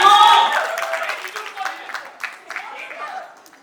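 Guests at a Roka ceremony in Lucknow break into scattered applause that starts strong and thins out over a few seconds, mixed with a voice and crowd chatter indoors.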